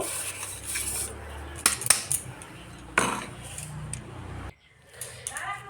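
Cake batter of sugar, oil and milk being mixed by hand in a bowl, with a spoon clattering and clinking against the sides in irregular strokes over a steady kitchen background, close and moderately loud.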